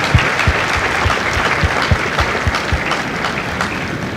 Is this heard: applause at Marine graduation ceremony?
yes